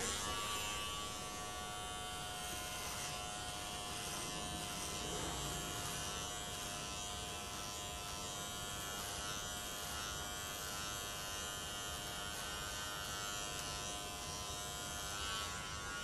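Electric hair clippers buzz steadily through a men's haircut at a 12 mm guard, a close, continuous hum with small shifts in tone as the blade moves through the hair, and no voices.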